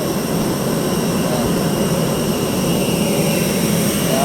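A Philippine Airlines jet aircraft at Dumaguete Airport gives a steady, close, broad engine roar that holds evenly throughout, with no talking.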